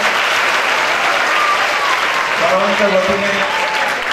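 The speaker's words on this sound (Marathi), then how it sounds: "जोरदार टाळ्या झाल्या पाहिजे पुन्हा एकदा" An audience at a cultural workshop gives loud, sustained applause throughout, and a voice speaks briefly over the clapping.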